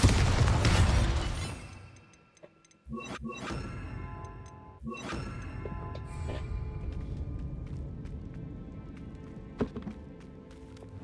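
A Bombarda spell bursts in Hogwarts Legacy, a booming blast that fades into a low rumble, followed by a few sharp thuds and impacts over ambient game sound.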